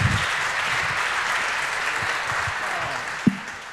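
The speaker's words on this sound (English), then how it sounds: "Please give a warm applause to our wonderful speakers" A conference audience at a hacker camp gives applause for the speakers, steady crowd clapping filling the whole stretch at moderate volume with one sharper knock near the end.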